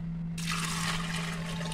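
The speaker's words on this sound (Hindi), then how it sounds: "दो गिलास पानी डालने के बाद" After a brief quiet moment, two glasses of water gush steadily into a metal pressure cooker holding rajma, a close splashing pour over a low steady hum.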